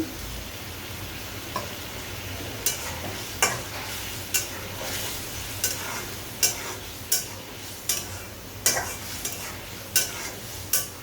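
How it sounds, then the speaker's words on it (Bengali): Egg korma with milk is stirred steadily in a pan, a spoon scraping and clicking against the metal in a regular rhythm over a low bubbling sizzle, close and clear with no voices. "কোরমাটা রান্নার সময় সারাক্ষণই নাড়ার উপরেই থাকতে হবে"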